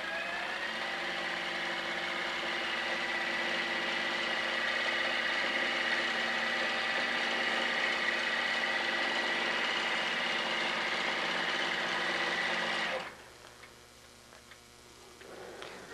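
An HQ Sixteen longarm quilting machine stitches a quilt with a steady, rapid mechanical ticking hum that runs loud and unbroken for about thirteen seconds, then stops abruptly, leaving quiet.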